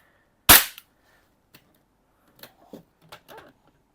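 A gas blowback Glock 34 BB pistol fires one sharp, loud crack into a chronograph, followed by a few faint clicks and handling knocks in an otherwise quiet room.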